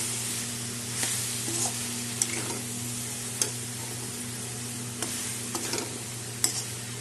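Pointed gourd, potato and soybean are stirred with spices in a wok, a steady low sizzle under a hum, punctuated by sharp scraping clicks of the spatula every second or so.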